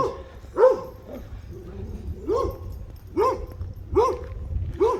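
Two dogs bark behind a fence at a house on Tamarisk Avenue in Yucca Valley, giving repeated sharp barks in an uneven rhythm at moderate distance over a low background rumble.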